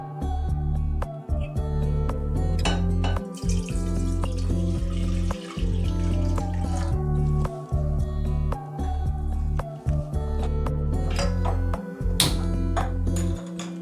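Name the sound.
milk being poured into a saucepan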